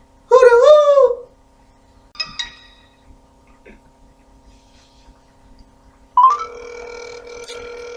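A telephone call rings out over a satellite link, a long electronic tone sounding near the end after brief chirpy noises and quiet gaps, with no talk over it.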